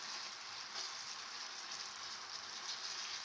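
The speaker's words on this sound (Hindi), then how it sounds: "अब आप इसके अंदर खोया ऐड कर दें और इसको पकाना शुरू कर दें" Khoya cooking in sugar in a pan for coconut barfi, giving a steady, even sizzle and bubbling hiss that is close and continuous throughout, with no other sounds over it.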